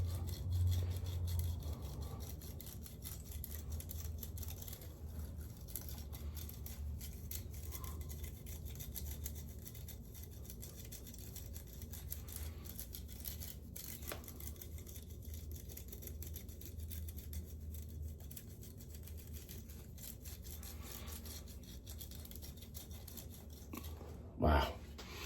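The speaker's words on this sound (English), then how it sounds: "I'm gonna roll it forward and back. And I'm gonna trim down this stubble." A ManMower roller-style beard tool trims facial stubble as it rolls forward and back, making a faint, continuous close-up rasping and brushing that stays quiet throughout, with a brief louder knock near the end.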